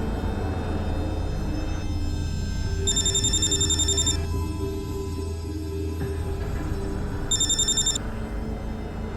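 A telephone rings twice in separate bursts over a steady background hum, with no one talking.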